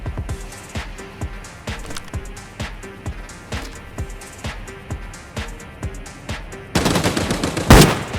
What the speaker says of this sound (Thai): มันยิงกับใครอยู่ก็ไม่รู้อะ